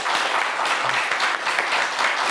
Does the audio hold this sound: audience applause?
yes